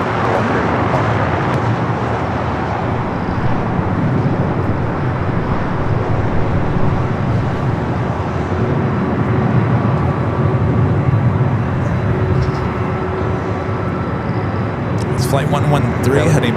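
A Philippine airliner takes off from LAX: a steady, loud, broadband jet roar and rumble builds through the whole stretch, with radio chatter running over it.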